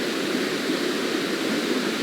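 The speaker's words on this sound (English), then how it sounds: "very loud Winooski River." The Winooski River in flood gives a steady, loud rushing roar of fast water that holds constant, with no voices over it.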